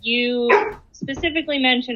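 A dog barks and whines close by, a drawn-out yelping bark followed by several shorter yips, heard over a person speaking on a call.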